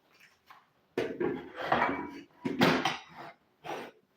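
A lid set onto a cooking pot of unripe plantain porridge, giving a few knocking clatters of metal and handling noise in bursts, close and moderately loud, with quiet gaps between.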